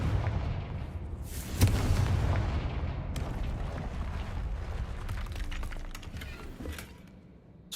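Confringo blasting spell explosion in Hogwarts Legacy: a sharp blast hits early, followed by a dense rumbling roar and scattered crackling debris that slowly fades, loud and close, with no talking.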